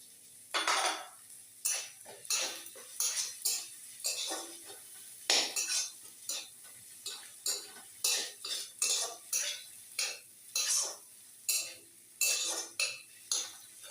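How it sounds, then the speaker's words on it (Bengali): Aloo paratha filling with chopped green chilies is stirred in a pan, a series of rhythmic scraping and clinking strokes of a metal spoon against the pan with a faint sizzle, close and alone. "এবার একে আমি একটু ভালো করে নাড়াচাড়া করবো। এর মধ্যে দিয়ে দেবো কাঁচা লঙ্কা কুচি,"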